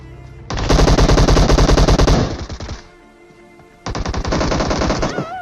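Rapid automatic gunfire from the mobile battle royale game PUBG Mobile rattles loudly in two bursts, a dense rhythmic stream of close shots, a brief pause, then another sustained volley.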